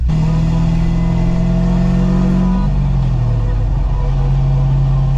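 A turbocharged Pontiac GTO is heard from inside while driving, its engine droning loud and steady with a clear tone that shifts pitch partway through as the gears change, alongside heavy road noise.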